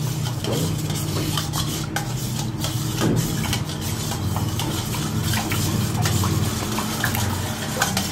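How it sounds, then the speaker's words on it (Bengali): A spoon stirs roasted cumin powder and dry chilli into a mango drink, making soft, quiet liquid swirling and light clinks against the glass in a steady, continuous scrape. "একটু ভাজা জিরের গুঁড়ো আর শুকনো লঙ্কা মধ্যে মিশিয়ে দিলাম"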